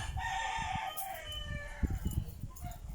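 A rooster crows at a rural home in the Philippines, with clucking fowl and other farmyard noise. The call rises clear over a rumbling, bumpy background at moderate distance.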